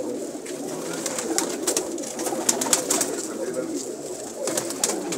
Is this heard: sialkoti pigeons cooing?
yes